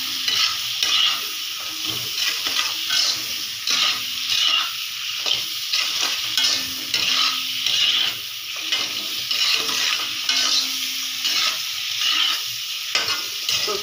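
Prawns sizzle steadily in hot oil in a pan for prawn masala, a continuous bright crackle with soft stirring scrapes throughout, close and even, with no talk.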